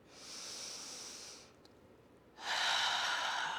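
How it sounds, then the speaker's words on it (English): A breathy, hissing exhale through an open mouth during yoga ocean breath, heard twice: one long soft breath, then a brief pause, then a louder, fuller breath with a fogging-a-mirror quality, close and alone. "Breathing in through the nose, out through your mouth like you're fogging a mirror"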